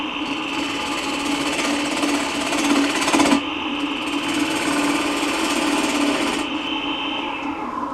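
A wood gouge cuts steadily on a lathe, doming out the lid of a yarn bowl. It makes a loud, continuous rough whirring scrape with a brief surge partway through, and no talking.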